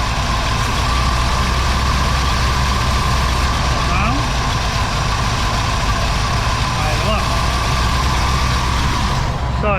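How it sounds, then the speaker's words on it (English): Car engine idling after a vacuum port is capped off, a steady loud low rumble that continues evenly throughout, with faint chirps over it. "Now if you listen, you'll hear it idle up."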